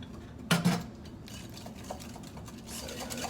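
Spoon scraping and clinking against a bowl while egg and an extra yolk are mixed into cookie dough batter, a couple of sharp knocks early, then softer steady stirring close up.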